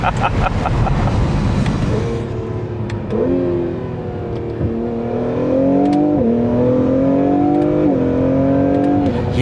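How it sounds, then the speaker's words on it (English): An Acura NSX Type-S hybrid sports car with turbos and an aftermarket exhaust drones and climbs through rising engine pitch under acceleration, with turbo whooshes heard through open windows from inside the cabin, loud and sustained. "Ooh, we got some turbo noises."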